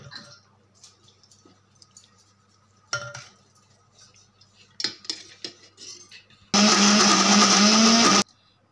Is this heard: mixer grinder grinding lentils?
yes